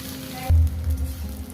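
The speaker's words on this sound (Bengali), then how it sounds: "এভাবে একটু ছড়িয়ে ছড়িয়ে দেবেন যাতে সুন্দর করে আলু পেঁয়াজ ঢেঁড়ো সব কিছু ভাজা হয়ে যায়" Potatoes, onions and okra spread out in a hot pan, frying with a close, steady sizzle and a few soft stirring scrapes, no voices over it.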